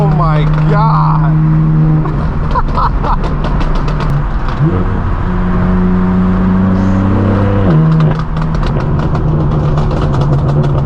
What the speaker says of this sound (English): 900 horsepower M8 coupe